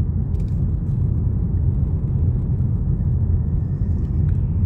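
A car drives steadily through left-bank Dnipro, its engine and road rumble forming a constant low, loud drone from inside the cabin, with no voices.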